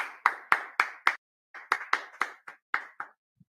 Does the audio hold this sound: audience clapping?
yes